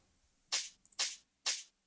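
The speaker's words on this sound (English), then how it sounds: "Then we have this hat" A crisp hi-hat sample from a slap house beat strikes three times with bright, airy sizzle and short decay, plus a tiny flam between the first two hits, heard alone and fairly quiet.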